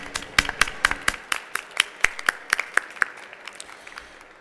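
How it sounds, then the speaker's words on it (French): Sparse clapping at an awards ceremony for innovative environmental techniques, a small group of hands striking in a fairly regular rhythm, distinct individual claps that fade slightly toward the end. "on vous applaudit."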